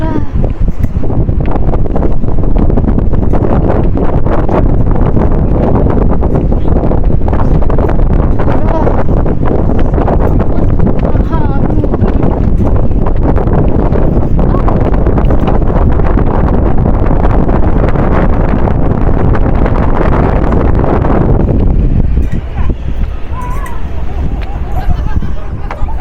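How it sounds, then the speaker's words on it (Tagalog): Strong wind buffets hard and continuously at Cat Cat village in Sapa, Vietnam, a loud roaring rush that drops away near the end, with faint voices underneath. "Ang hangin sobra."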